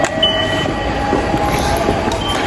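Train pulling into a snowy mountain-area station in Japan, a steady rumble and rail noise running throughout with a faint high squeal, moderately loud and close.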